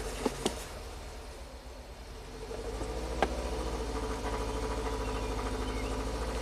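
A couple of sharp clicks, then a 2020 Subaru WRX turbocharged, direct-injected engine with a misfire cranks and catches, settling into a steady, slightly uneven idle hum.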